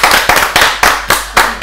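Audience at a Kyrgyz game-show style competition breaks into clapping, about six strong synchronized bursts roughly every quarter second, loud and close with no talk over it.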